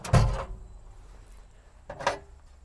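A Setina cargo drawer in the rear of a Ford Interceptor slides open and shut, giving two short, close thumps and rumbles about two seconds apart, with no talk.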